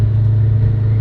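A Holden HQ with a T5 conversion and Magnaflow mufflers idles with a deep, steady exhaust rumble, loud and close, holding one even drone with no revving.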